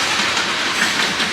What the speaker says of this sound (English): All right, so the train has passed.